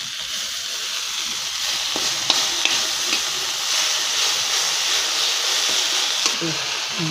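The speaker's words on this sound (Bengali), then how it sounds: "অল্প একটু তেল দিয়ে এর মধ্যেই ফোড়ন দিয়ে দেবো, কটা তেজপাতা দিয়ে দেবো, কটা জিরে দিয়ে দেবো, একটু আদা দিয়ে দেবো" Bay leaves, cumin seeds and ginger tempering in a little hot oil, a steady bright sizzle and hiss with a few small pops and clicks from stirring, close by over about seven seconds.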